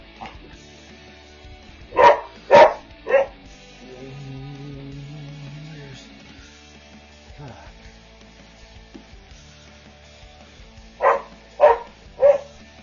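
A dog barks in two bursts of three sharp, loud barks each, separated by a quieter stretch with a low hum; a person speaks nearby at times.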